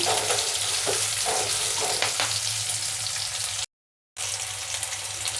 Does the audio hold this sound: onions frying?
yes